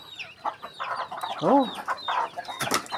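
Chickens on a farm cluck in short, irregular bursts close by, with one louder rising call in the middle, while a person briefly exclaims among them.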